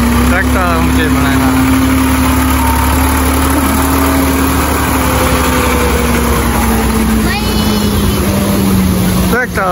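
A tractor engine runs at a steady, loud idle close by, its low droning hum unbroken for the whole stretch, with voices talking faintly underneath.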